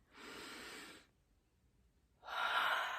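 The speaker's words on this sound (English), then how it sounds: "We breathe in and we breathe out." A person takes slow, deep breaths during a calming anxiety-release exercise: one long breath, a pause of near silence, then a second breath that is louder and closer, with no talking.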